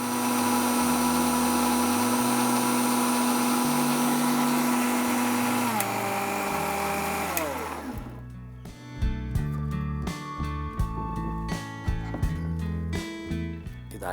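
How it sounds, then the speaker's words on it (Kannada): A mixer grinder whirs loudly blending guava with lemon for juice, holding a steady motor drone, then slowing with a falling pitch and rattling to a stop, followed by knocks and clatter. "ಈಗ ಇದನ್ನು ಚೆನ್ನಾಗಿ ಮಿಕ್ಸಿ ಮಾಡ್ಕೊಳ್ಳೋಣ"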